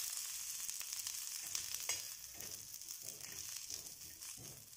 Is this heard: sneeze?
no